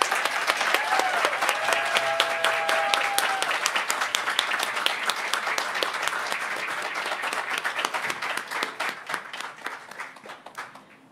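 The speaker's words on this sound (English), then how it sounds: "Please give another round of applause for Mikkel." A room of people at a spring awards celebration applauds a winner with a loud, dense burst of many hands that runs several seconds, then thins into scattered individual claps as it fades out.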